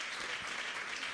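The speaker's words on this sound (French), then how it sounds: "Elle est là, on va l'applaudir." A brief, faint burst of dense applause from an audience at a Miss Congo Belgium fashion show, given in honour of the Miss's mother, a continuous even wash of clapping.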